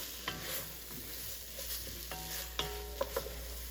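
Tomato paste cooks in a pot for pot roast, with a soft continuous sizzle beneath a spoon scraping and stirring in several brief, faint strokes.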